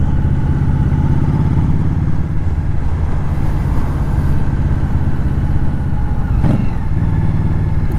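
A 2018 Indian Scout Bobber ABS rumbles loudly and continuously while being ridden, its low engine drone shifting pitch through a downshift, with a brief burst near the end.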